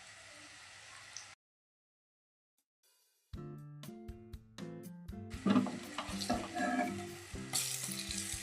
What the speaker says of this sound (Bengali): বাকি পকোড়াগুলিকেও একইভাবে ভালোভাবে ভেজে নেব